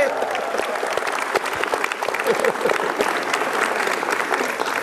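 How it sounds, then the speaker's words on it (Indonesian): A studio audience at a stand-up comedy talent show claps loudly and densely throughout, with a voice speaking briefly over the applause. "Sekali lagi tepuk tangan"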